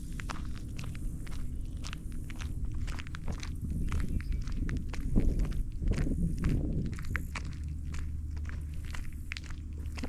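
Steady footsteps crunch along down a ramp outdoors at Brown Wise Park in Kissimmee, Florida, at a walking pace, with a constant low rumble of wind or distant background noise underneath.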